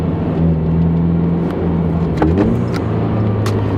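A Toyota 86 fitted with an Invidia N1 exhaust drones at a steady pitch from inside the cabin, then a quick throttle blip and downshift swings the engine note up, with faint clicks from the cabin.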